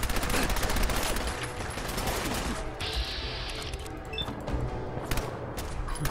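Dense gunfire in the video game Fallout 4: rapid, sustained bursts of shots and impacts filling the whole span, loud and continuous with no pauses.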